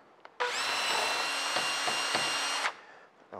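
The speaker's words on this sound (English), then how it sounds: "I'm going to drill out." A power drill whirs steadily at high pitch for about two seconds, close by, drilling a hole for an ebony plug in woodwork, then spins down and stops.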